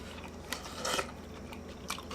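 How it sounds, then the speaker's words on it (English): A bite into hot, crispy bacon-wrapped asparagus cooked on a Ninja Foodi Smart XL Grill, giving a close, faint crunch near the start and a brief crackling burst of chewing, then a softer crunch toward the end. "That is crispy, and the asparagus actually has some crunch to it still"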